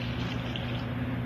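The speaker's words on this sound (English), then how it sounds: "you put the water and you just mix it" Water poured into a bowl of fry bake dough mixture made with flour and baking powder, a steady close splashing stream over about a second.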